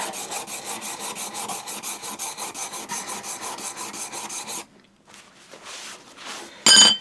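A hand plane chip-breaker is rubbed by hand back and forth on a sharpening stone in quick, even rasping strokes, close and steady, then it slows to softer, scattered scrapes before a short loud burst at the end.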